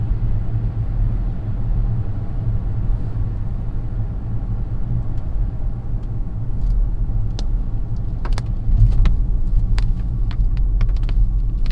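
A 2021 Audi Q8 with an eight-speed gearbox is being driven in dynamic mode, its low engine rumble steady inside the cabin. Sharp clicks from the paddle shifters stand out near the end.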